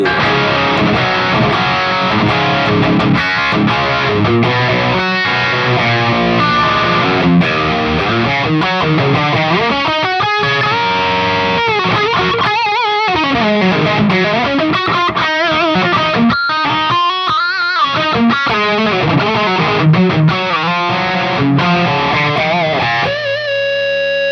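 Distorted electric guitar played through a Mooer GE-250 multi-effects unit using its Friedman BE-100 amp and cabinet model with no added effects, heard loud and continuous as chords and melodic runs with no talking.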